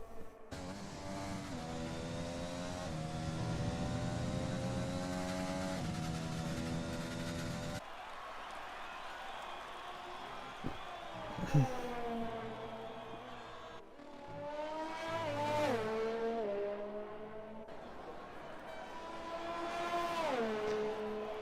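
Race cars lap the Austrian circuit in a racing video game, a Ferrari following closely behind. Engine whines climb and drop through gear shifts, with a near, steady drone at first and then separate cars passing at moderate volume.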